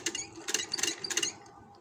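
A sewing machine stitches gathered dupatta fabric onto a gharara in short, close mechanical bursts of clattering, with brief pauses between runs and no talking.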